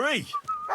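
Dog in the video game Kingdom Come Deliverance 2 giving a short, close whimpering yip with a falling pitch, followed by a thin whine, as someone speaks over it.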